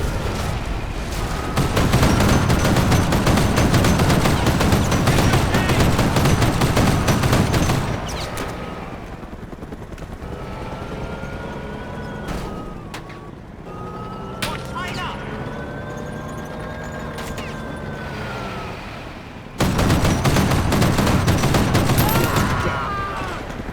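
Sustained gunfire in a Mercenaries 2: World in Flames cutscene, with loud rapid automatic bursts at the start and end and sparser shots between, mixed with voices and music.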